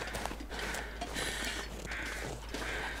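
Crows cawing in The Long Dark video game, several harsh calls repeating at a moderate distance over a steady low wind-like background, with no speech.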